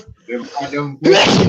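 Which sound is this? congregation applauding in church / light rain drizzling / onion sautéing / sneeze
sneeze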